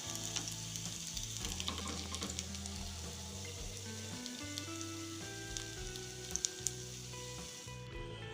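Bread snacks fry in hot oil with a steady, close, even sizzle and faint bubbling, broken by a couple of small clicks near the end.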